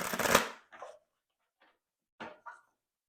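Tarot cards are shuffled up close in a few quick riffling bursts separated by short pauses, with the first burst the loudest.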